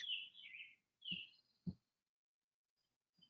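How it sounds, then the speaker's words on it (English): Small birds chirp in short, high bursts with brief pauses, fairly quiet and slightly distant, no voices. "The birds are really chirping today."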